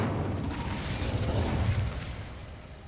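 A cast of the Incendio fire spell in Hogwarts Legacy, a dense roaring burst of flame that holds steady for about two seconds before tapering off, heard alone with no talk.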